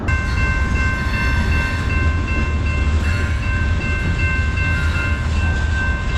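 A train rumbles past close by over railroad tracks with a steady low roar and sustained whining tones, loud and continuous throughout, heard from beneath the tracks.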